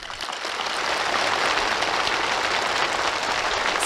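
Warm applause from participants at a ceremony handing new house permits to farm workers in the countryside, a dense, steady patter of clapping that swells in and holds.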